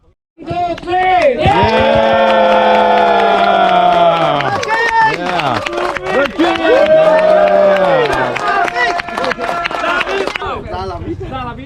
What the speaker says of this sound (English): And everyone gave him a thank you with a big cheer.